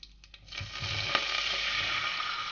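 Water is poured into a hot pan for cooking saffron rice, setting off a loud, steady sizzle and hiss after a few faint clicks.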